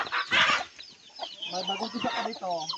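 Chickens clucking and newly hatched chicks peeping on a small farm, with repeated close clucks and high chirps in an irregular, lively rhythm, a rooster-like call mixed in.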